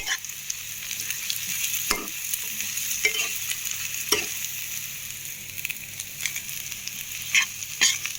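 Colocasia (taro) curry seasoned with salt and red chili powder being stirred in a pan, a steady sizzle running throughout under scraping spoon strokes and occasional louder clacks, close and without talk.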